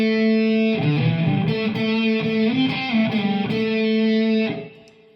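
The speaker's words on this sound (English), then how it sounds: "I'm using a Boss Mega Distortion pedal here" Heavily distorted electric guitar, a Paul Reed Smith on the bridge pickup through a Boss Mega Distortion pedal, rings out in sustained chords with a few shifting notes, loud and alone, then fades out near the end.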